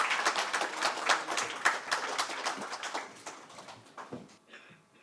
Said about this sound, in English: So please welcome with a huge round of applause Mr. Sivasailam, our inaugural speaker.